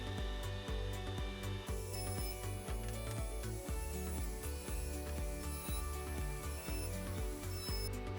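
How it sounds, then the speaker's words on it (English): A router fitted with a round-over bit shapes the corners of pallet wood, its steady whine running continuously for several seconds with faint rhythmic cutting pulses, close and fairly loud. "the easiest and fastest way is to use a router with a round over bit"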